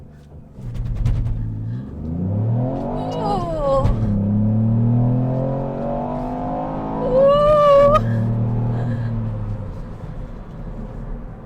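Ford Fiesta ST doing a launch-control start on a slope with the handbrake on: a loud, close engine revs hard and climbs through rising gear pulls, with a short exclamation from inside the car.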